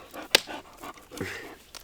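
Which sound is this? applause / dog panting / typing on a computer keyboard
dog panting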